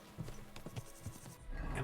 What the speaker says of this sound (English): Sometimes I'm not sure if the horse is still on the path.